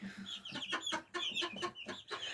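Japanese bantam chickens cluck close by in a rapid run of short, pulsing calls, with no talk over them.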